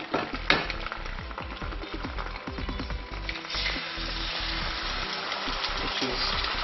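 Eggs sizzle and crackle in a hot frying pan, a steady close hiss with sharp pops and spits that runs the whole time, loud and unbroken.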